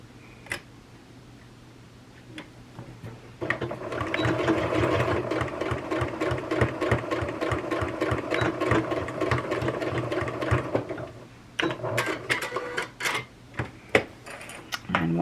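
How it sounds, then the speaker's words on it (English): A sewing machine stitches straight across the folded fabric corners of a small quilted hot plate, running in a steady rapid clatter for several seconds before stopping, with a few sharp handling clicks after. "we're just going to sew right across that"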